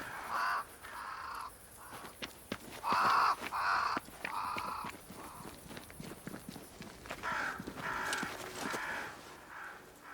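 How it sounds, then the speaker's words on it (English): Crows caw repeatedly in a game forest scene, with harsh calls in bursts over soft footsteps and ambient noise. "Crows. They flock to that great tree up there."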